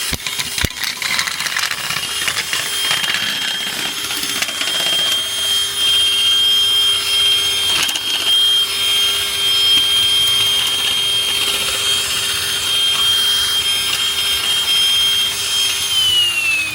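A Milwaukee M18 cordless nibbler in mode 3 chews steadily through sheet metal, a continuous loud buzzing whine with a sustained high tone that barely drops under load, close and uninterrupted.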